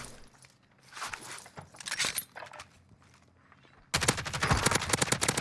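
Bursts of rapid machine-gun covering fire in a battle-royale shooter game, starting as scattered shots and breaking into a loud, sustained volley near the end. Footsteps and movement are mixed in, with no talk.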